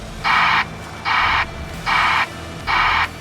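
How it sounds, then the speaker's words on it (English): The white noise backup alarm on a Volvo excavator gives four evenly spaced bursts of broadband hiss, each lasting about a third of a second, loud and close with no talking. "Let's have a talk about new alarm option called white noise alarm."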